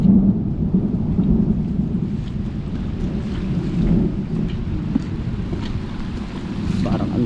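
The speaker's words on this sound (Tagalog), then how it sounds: "palapit na po ng palapit yung ulan dito sa atin" Heavy rain roars steadily with gusting wind buffeting the microphone, while low thunder rumbles underneath.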